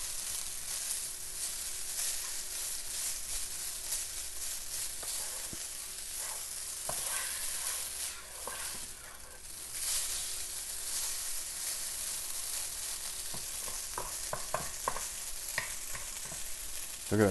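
Braised lamb fries in sesame oil with a constant soft sizzle and hiss, broken by occasional spatula scrapes and stirring clatter near the end, fairly quiet and without talking.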